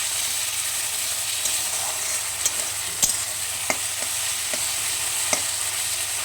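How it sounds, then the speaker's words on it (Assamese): Mustard and poppy seed paste frying in a pan, a constant close sizzle broken by a few sharp clicks and scrapes of stirring, with no talk. "পিচি থোৱা সৰিয়হখিনি আৰু পোস্তখিনি এতিয়া মই অলপ ভাজিম"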